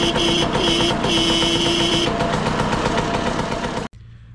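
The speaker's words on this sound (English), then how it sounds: "I'm gonna kick the bike over and see if it works." Serveta Jet 200 scooter engine, freshly rebuilt, running loudly with a steady rough idle chatter and brief tonal notes overlaid early, then cutting off abruptly near the end.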